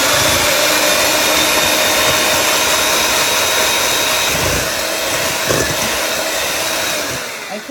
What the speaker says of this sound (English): now we're going to beat them until they're fluffy with our mixer.